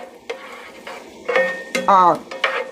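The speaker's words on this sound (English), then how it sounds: "I'm going to add the ground turkey, and we're going to brown that off together" Ground turkey browning in a pan for baked spaghetti casserole, stirred with a utensil; a few short scrapes and sizzling bursts over a brief stretch, close and fairly loud, with no speech.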